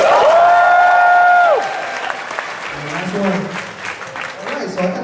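A convention panel audience at New York Comic Con 2015 claps and cheers loudly. A sustained tonal squeal opens the moment, then the applause continues as a steady, dense crowd roar.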